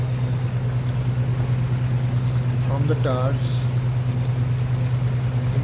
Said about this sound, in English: And the water you can see is falling down